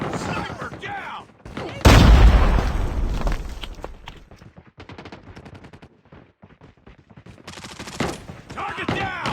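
Assault rifle and sniper gunfire in a first-person shooter game: a loud burst of rapid automatic shots followed by scattered single cracks, with in-game voices calling out between them.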